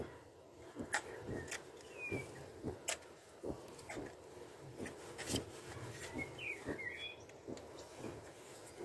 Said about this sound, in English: go around it with some sandpaper